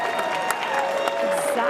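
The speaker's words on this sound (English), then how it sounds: "You have to applaud because this is an in-room bid." Applause at a collector car auction greets an in-room bid, a steady wash of clapping from a crowd in a hall, with an auctioneer's voice continuing over it.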